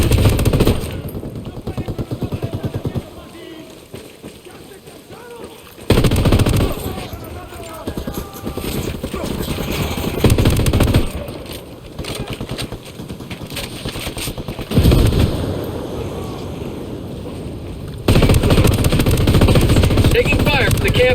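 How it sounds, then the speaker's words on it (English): Bursts of machine-gun fire in a Tom Clancy's Ghost Recon Wildlands firefight at a camp, loud sustained rattling volleys separated by brief lulls, mixed with engine rumble and voices talking over the action. "Taking fire from the camp entrance."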